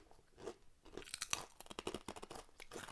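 Crisp Australian pork crackles crunch loudly between the teeth, a close run of sharp, irregular bites and chewing crackles with no talk.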